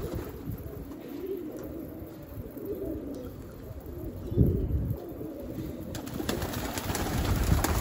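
Domestic pigeons, including a Telli Kelebek bird, coo near their coop outdoors: low, steady cooing runs throughout against faint background ambience, with a slightly louder burst around the middle. No one speaks.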